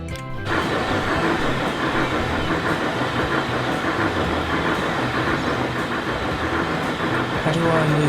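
Train running along the rails in the video game Transport Fever 2, a steady rolling rumble with rhythmic clatter continuing throughout, loud and close, with no talking.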